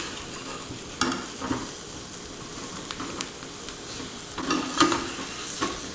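Mushrooms sauté in a hot pan with a steady frying hiss, punctuated by several soft stirring scrapes and one brief louder burst near the end, close and clear with no voices.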